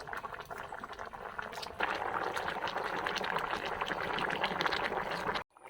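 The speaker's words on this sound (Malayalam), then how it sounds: "തലക്കറി ഇത് നന്നായിട്ട് കിടന്ന് തിളച്ച് മറയുന്നുണ്ട് കേട്ടോ." Fish head curry, Kerala style, boils vigorously in a covered pot, a dense steady bubbling and simmering hiss that swells louder after a couple of seconds and stops abruptly near the end.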